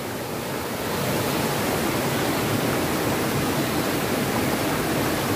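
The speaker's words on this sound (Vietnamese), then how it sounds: "Đây là dòng nước ở trên đầu thác mọi người nhé." Broadband roar of heavy rainy-season water pouring over the head of Lưu Ly waterfall in Đắk Song, Đắk Nông, Vietnam; steady, loud and close, a continuous rushing wash with no voices.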